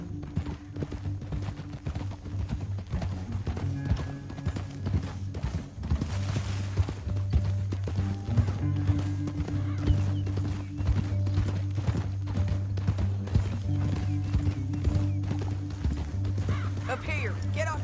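Horse hooves clip-clop at a steady canter in the Red Dead Redemption 2 video game, with a brief whinny and creaking tack, running under long stretches of spoken dialogue.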